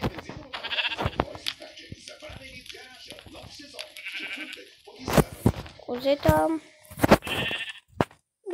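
Goats bleat repeatedly in the Minecraft video game as they are set on fire, loud game bleats recurring in bursts while a person talks throughout.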